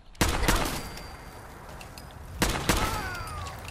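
Gunfire in the video game Fallout 4: two loud, sharp bursts of shots about two seconds apart, each fading into a ringing decay, with no talk over them.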